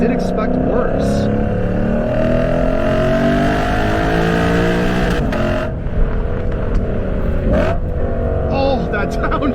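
A Lexus RC F's V8 snarls and revs hard through a downshift while being pushed on a road with corners, loud and continuous, with an excited voice over the engine.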